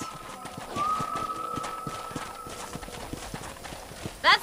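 Horse hooves clip-clop at a steady trot in the Western video game Red Dead Redemption, a rhythmic run of close knocks over ambient game sound, with a sharp louder burst near the end.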